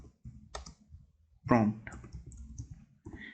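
A few scattered computer keyboard clicks, as someone types to open a command prompt, sit among a person's speech, with short pauses between the bursts.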